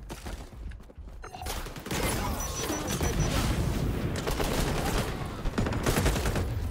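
Rapid gunfire from the player's weapon in the XDefiant shooter game, a continuous loud burst of overlapping shots over several seconds with crashes and game noise mixed in.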